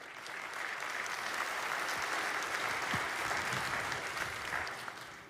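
Sustained applause from a church audience, a dense, steady wash of clapping that holds evenly for several seconds before easing off slightly at the end.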